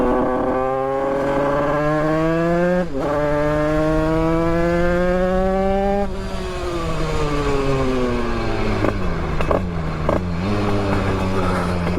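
A motorcycle engine revs hard and close, its pitch climbing in repeated sweeps, dropping briefly at gear changes, then rising again into a rough, uneven burble near the end, with no talk over it.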